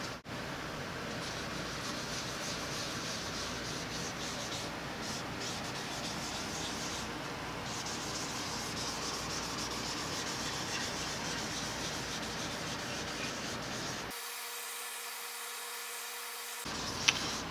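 A black rag rubs stain into a flamed guitar body, making a steady, fairly quiet scrubbing swish that continues without pause before a short break near the end.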